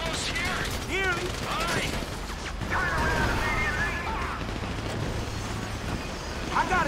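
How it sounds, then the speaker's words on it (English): Bursts of gunfire and crashing action in GTA 5 during a bank heist getaway, loud and continuous, with game voices and shouts overlapping. "You hear that gunfire?"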